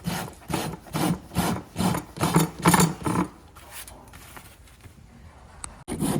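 A rasp scrapes a gaited horse's hoof in about eight rhythmic strokes, each a coarse gritty sweep, close and fairly loud, then it goes quieter with light scuffing and a sharp knock near the end, no talking.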